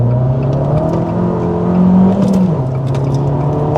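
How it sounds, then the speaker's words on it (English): Car engine revving steadily and loudly from inside the cabin, pitch holding then rising briefly before settling as the car pulls away, with no talk. "You obviously have to bring the revs up to pull away, which is fine."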